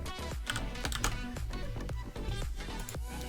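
Rapid keystrokes on a computer keyboard while a programmer types a C# application manifest setting for a trigger bot, a dense, uneven stream of close, crisp clicks with no voice.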